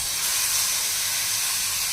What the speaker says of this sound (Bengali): এবার আমি চাল কুমড়োটা ছেড়ে দিচ্ছি